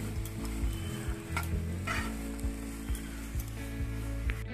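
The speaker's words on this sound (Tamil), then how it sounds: "இப்போ நம்ம ஆனியன்ஸ் ஃப்ரை பண்ணிக்கலாம். நான் கொஞ்சம் பட்டர் ஆட் பண்ணியிருக்கிறேன்." Onions frying in butter in a pan, a steady close sizzle with soft regular knocks of a spoon stirring through it and no voices.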